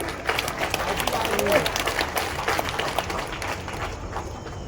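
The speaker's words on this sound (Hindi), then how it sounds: "तालियां तो बजा दी" Audience applause at a public thank-you rally in Guna, a mid-level patter of clapping from a crowd with voices and background murmur mixed in.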